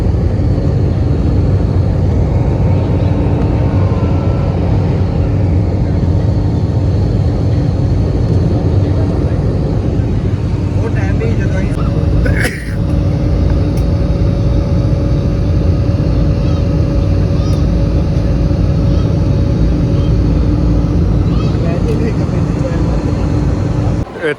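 Inside an airliner cabin after boarding at Veer Savarkar International Airport in Andaman, a loud, unbroken engine drone fills the space with steady low rumble and hum.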